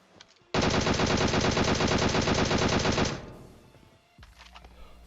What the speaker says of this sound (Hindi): तो मैं भी गोलियां पेलता हूं।